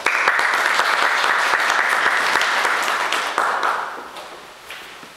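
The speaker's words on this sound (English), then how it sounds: "let us all welcome our special guest today, Calum Miller, with a huge round of applause" An audience at St Thomas welcomes a guest speaker with a big round of applause, many hands clapping close and strong before it gradually thins and fades out toward the end.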